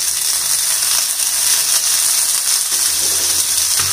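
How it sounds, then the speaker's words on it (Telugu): Pieces of ivy gourd fry in hot oil, giving a loud, dense, continuous hiss and crackle with no pauses or voices. "ఆయిల్ కొంచెం వేడయ్యాక మనం ఇందులో కట్ చేసి ఉంచుకున్న దొండకాయల్ని వేద్దాం."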